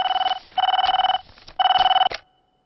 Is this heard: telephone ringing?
yes